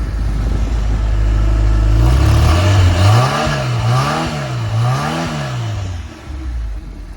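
A smoking Bertone car's engine idles, then climbs into a loud rev as gas is added. The pitch rises and falls in three repeated swells before settling back, close by with no talking.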